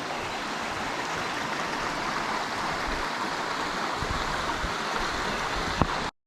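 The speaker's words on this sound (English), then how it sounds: "We're just coming up on some little smaller waterfalls, some little cascades." Small waterfalls and cascades along a hiking trail give a constant, close rushing and splashing of water that holds steady throughout, with a brief knock near the end before it cuts off abruptly.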